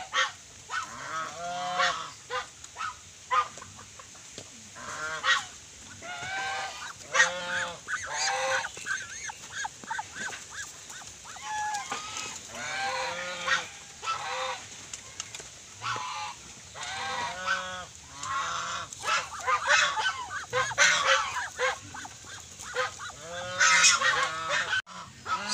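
A flock of farmed ducks in the Philippines quacks and honks without pause, loud and close, with overlapping calls throughout.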